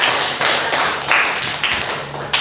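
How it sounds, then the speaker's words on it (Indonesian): A classroom of pupils claps for classmates after art presentations, a short burst of close, brisk clapping with uneven accents and no talking. "Beri tepuk tangan sekali lagi untuk teman-teman kalian."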